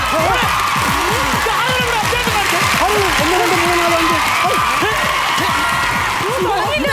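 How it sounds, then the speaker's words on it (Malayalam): Steady applause and cheering from a comedy show audience, a continuous wash of clapping beneath someone talking loudly over it. "ഇത് ഭയങ്കര കയ്യടിയാണല്ലോ"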